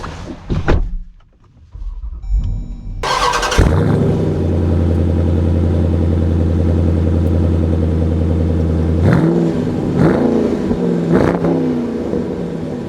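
A 2024 Dodge Durango SRT 392 V8 fires up after a door thunk, then holds a loud, steady close-up engine drone before several sharp revving surges toward the end.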